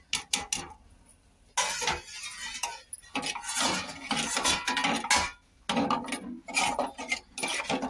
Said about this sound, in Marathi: याला आपल्याला असं मिक्स करून घ्यायचंय